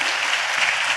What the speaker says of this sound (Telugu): పెద్దగా చప్పట్లు కొడుతూ స్తోత్రాలు చెప్తాం.